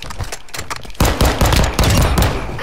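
Rapid gunfire in Call of Duty: Modern Warfare II on the Shoot House map in free-for-all mode, loud close bursts of shots in quick succession, growing denser after the first second.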